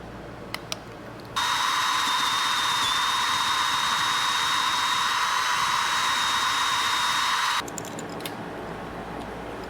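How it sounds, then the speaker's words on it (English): A drill starts up and runs with a steady high-pitched whir for about six seconds as its bit clears leftover threads from a tapped M10 hole, then stops, with a few faint clicks before and after. "Just have to let the drill bit take care of that."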